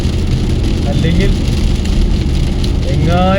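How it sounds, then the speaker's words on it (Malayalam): Heavy rain drums on a moving car during a drive through Dubai, a dense steady wash of noise over a low road and engine rumble, with a few brief tonal sounds on top. "അതുകൊണ്ട് തന്നെ നല്ല മഴ പെയ്തുകൊണ്ടിരിക്കുന്നു."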